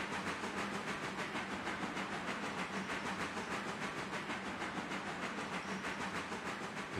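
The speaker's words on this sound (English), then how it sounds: "I hear a train." A train passes outdoors in pouring rain on a freezing night, a steady broadband rush and hiss with faint rhythmic clatter, continuous and fairly distant throughout.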